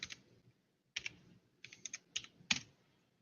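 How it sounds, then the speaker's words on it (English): Keys on a computer keyboard tapped while typing a message into a chat, heard as about five quick clusters of close, crisp clicks separated by short pauses, with no talking. "I am typing it into the chat"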